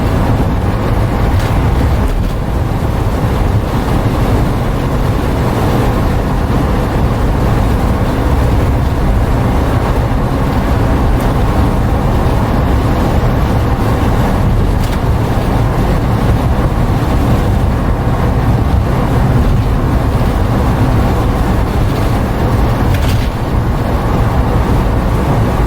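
A 1977 Volkswagen bay-window Westfalia camper van cruising at about 40 mph, a constant loud engine drone mixed with road and wind rumble throughout, no talk.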